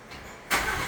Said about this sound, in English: let's listen to the Raptor